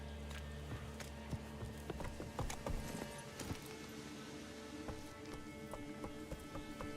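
Hoofbeats of Roach the horse in The Witcher 3 video game, a steady clip-clop of hooves at a moderate gait, fairly quiet, set against soft game ambience.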